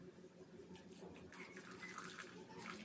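Water is poured steadily into pure soil during a DIY erosion experiment, a continuous rushing, splashing flow at close range with no clear talk.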